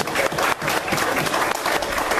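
A church congregation claps and cheers in worship, a dense, steady wave of applause lasting a couple of seconds with a brief dip midway.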